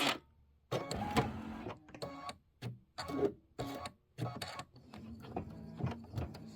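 An embroidery machine punches its needle through dense, thick stitching on a pillow project, giving a quiet, uneven series of mechanical thumps and whirs with short pauses between bursts.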